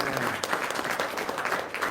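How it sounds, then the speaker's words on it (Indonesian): A short burst of clapping from a small group, a dense patter of hands that holds for about two seconds with some background voices mixed in. "Wah tepuk tangan."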